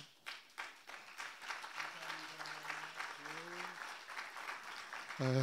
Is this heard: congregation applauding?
yes